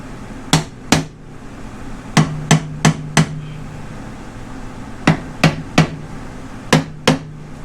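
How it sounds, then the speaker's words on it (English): A rubber mallet strikes a Honda Silverwing 600 motorcycle's CVT part with twelve sharp, loud knocks in uneven groups of two, four, three and two, with short quiet pauses between the bursts. "I'm going to need my rubber mallet to bang this thing off of there"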